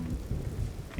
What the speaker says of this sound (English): And yes, it is raining again